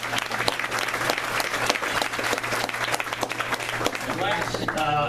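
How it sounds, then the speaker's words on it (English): Soccer fans at a Charleston Battery meet-and-greet give a player a loud, full round of applause, dense clapping sustained throughout, with a few voices calling out near the end. "Please give him a round of applause."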